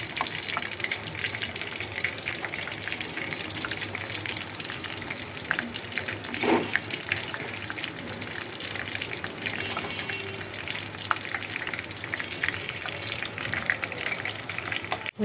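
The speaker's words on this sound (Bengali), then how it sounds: "এই যে মচমচে করে ভাজা হয়ে গেছে, এখন আমি এটাকে তুলে নিচ্ছি" Food crackles and sizzles steadily in hot oil as it fries crisp for an iftar snack, with occasional stirring and utensil scrapes over the continuous bubbling.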